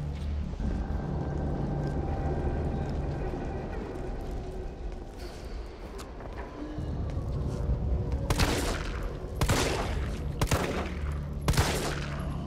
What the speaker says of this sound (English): I like the sound of the guns.